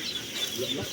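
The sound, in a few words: chickens clucking on a duck farm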